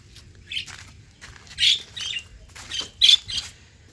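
Pet birds in a colony cage squawk and chirp in short bursts, several sharp calls spread across the stretch with a couple of louder close squawks, and no voices.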